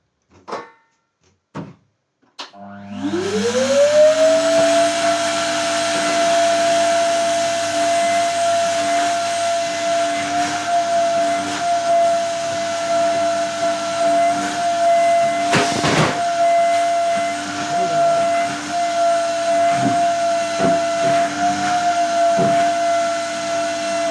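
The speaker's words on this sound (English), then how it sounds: "I do need to vacuum all this up. Let me quickly vacuum this up." A workshop vacuum cleaner starts up after a few knocks and then roars loud and steady with a high whine, sucking up debris on a custom guitar build bench.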